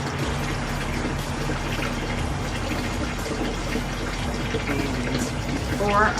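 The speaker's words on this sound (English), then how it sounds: "I add the water to it" Water is poured steadily into a container of flowers on a patio, a continuous splashing hiss that runs throughout while a person talks.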